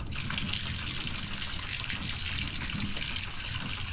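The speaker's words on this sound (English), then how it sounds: "Fill the bath." Running water filling a bathtub in the video game Botany Manor, a steady broadband gush and trickle that holds at an even level throughout with no talk.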